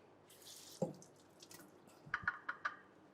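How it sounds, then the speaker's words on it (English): Water rinsing a Thermomix lid, heard as faint brief splashes and a few quick drips in a quiet kitchen. "rinse up a little bit of your lid"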